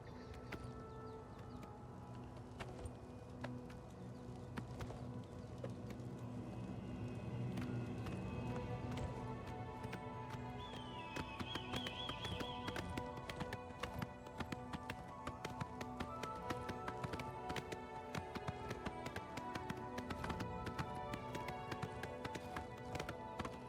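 Steady clip-clop of galloping horse hooves in the video game The Elder Scrolls IV: Oblivion runs throughout over a layered music-like background, with a brief higher chime partway through.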